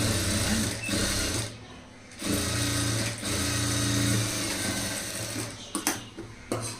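A sewing machine stitches a high-neck blouse, a loud steady mechanical whir running in long bursts with brief pauses and small knocks between runs.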